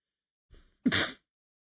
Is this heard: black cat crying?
no